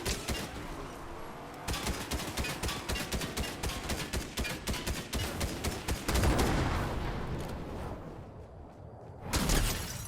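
Rapid bursts of gunfire in the Fortnite video game, including shotgun fire, crackle as sharp repeated shots in quick rhythm through most of the stretch, pausing briefly before a final loud burst near the end.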